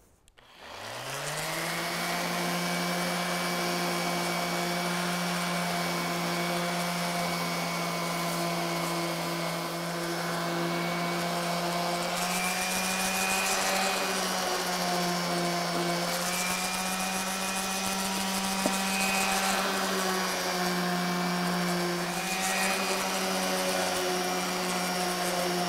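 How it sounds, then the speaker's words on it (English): A 220 grit oscillating sander works over bronze seat post tabs, a steady close motor whine with strong harmonics that holds unbroken for the whole span, pitch wavering slightly as pressure on the workpiece changes. "I'm going to start by sanding it with a 220 grit oscillating sander."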